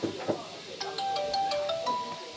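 Telephone ringing at a busy clinic handling prescriptions by proxy for COVID patients, a steady electronic ring tone repeating through the clip over faint room noise and background voices.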